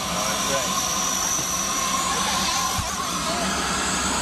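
An air force jet aircraft idling on the ground before takeoff, its engine giving a loud, continuous roar with a high whine, steady throughout, heard nearby.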